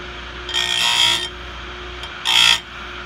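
A chainsaw with a chain freshly sharpened using a Timberwolf sharpener cuts into wood in two short bursts, each about half a second long, with a steady low hum running beneath and a brief pause between the cuts.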